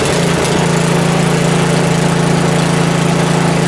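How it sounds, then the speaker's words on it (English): A Simplicity 1222EE snow blower engine, run for the first time after sitting ten months, runs loud and close with a steady, even drone and no voices. "I'm going to give her a pull and see if it fires up."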